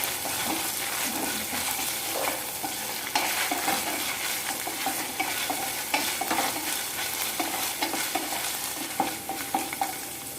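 Kerala-style mushroom roast with green chillies and ginger-garlic paste is stirred in a frying pan, giving a continuous close sizzle broken by repeated scraping stirs.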